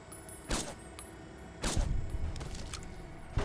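Hunting rifle gunfire in Fallout: New Vegas, fired by hostile characters: three sharp, booming shots spaced about a second apart, each with a rumbling tail over a low, steady game background.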